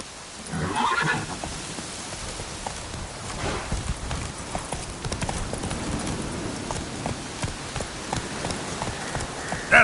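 Horse hooves clip-clop steadily as Roach is ridden in The Witcher 3, a continuous rhythmic trot at moderate distance, with a brief whinny near the start and soft rain-like ambience underneath.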